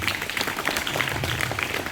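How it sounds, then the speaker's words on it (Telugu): Students at a boys' school gathering applaud together, a steady, dense wash of many hands clapping throughout at a fairly loud, even level. "ఆ ఆదర్శానికి మరొకసారి మీ అందరి తరపున ఒకసారి చప్పట్లు కొట్టండి"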